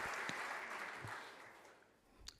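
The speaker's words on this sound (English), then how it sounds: "please join me in a round of applause for the MAC staff" Dense, quiet applause for the staff at a Missouri Athletic Club trophy banquet holds steady, then thins out toward the end, with no talking over it.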